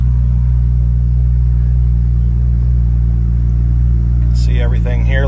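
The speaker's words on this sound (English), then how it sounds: "Give it a couple just light revs." A car engine idles with a steady low rumble, then near the end takes a couple of light revs that rise and fall quickly; loud and close, with no talk.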